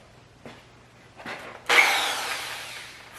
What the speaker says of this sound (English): I'm using a Tough Stuff drill.